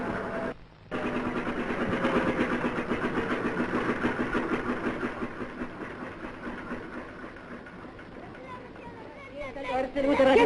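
A motor pump engine runs on farmland, a steady moderate mechanical hum with a brief dropout near the start and a rise at the end, while people talk over it.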